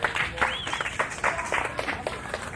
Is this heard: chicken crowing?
no